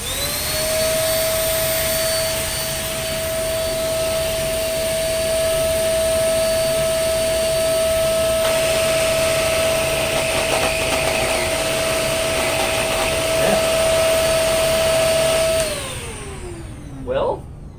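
Shark vacuum cleaner running with its spinning brush roll, a loud, close, steady motor whine with a constant high tone that holds for about fifteen seconds before winding down, with a clunk at the end.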